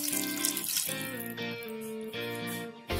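Water pours steadily into a pan of matar paneer curry, one to one and a half cups, a close, continuous gurgling stream with shifting tones and brief breaks as the flow changes.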